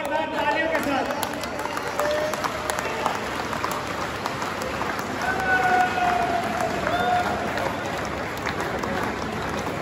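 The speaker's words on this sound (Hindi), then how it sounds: "जोरदार तालियों के साथ" Applause from an audience at a World Bee Day celebration in Ramnagar, Kurukshetra, Haryana: dense, sustained clapping from a crowd that carries on throughout and swells slightly in the middle, with voices mixed in.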